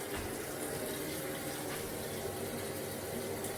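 An opened basin tap runs on a mains-boosted supply fed by a DAB Esybox pump system, giving a steady, fairly quiet rushing hiss of water with no break and no voices.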